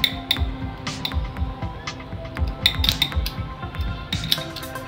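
Scissors snip and clink against a metal pan or dish as a fish is cut up in a kitchen, giving irregular light clicks and scrapes. The sounds are moderately close, with no talking.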